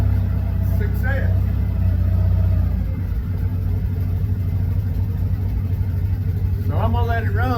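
Truck engine idling on a cool morning just after starting, a loud steady low rumble that eases slightly after a few seconds and runs on evenly, with a voice speaking briefly over it.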